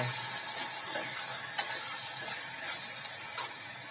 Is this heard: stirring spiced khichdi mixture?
yes